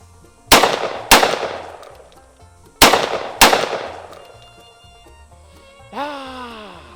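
Four loud, close shotgun blasts in two quick pairs, each with a sharp crack and a ringing decay, followed by a short tonal mechanical whine, outdoors with no talking.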